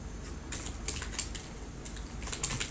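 Computer keyboard typing while entering VB code, a steady run of light, quick key clicks with small bursts, close and alone without talk.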